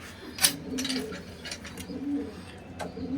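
Soft cooing of Cheena pigeons repeats in a low murmur, with a few brighter chirps from other birds cutting through now and then.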